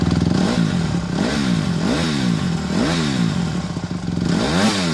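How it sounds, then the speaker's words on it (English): A motorcycle engine revved hard at wide open throttle while still cold, each rise and fall of pitch repeating in a steady series of roughly five or six loud, close revs. "Revving your engine immediately after starting it might sound cool, but it's damaging."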